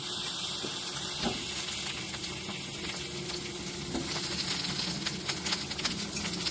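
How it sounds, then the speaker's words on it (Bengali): Potatoes frying in a pan sizzle steadily after tomatoes are added, giving a continuous close hiss with faint stirring clicks. "এবার আমি টমেটোটা আলুটার মধ্যে দিয়ে দেব"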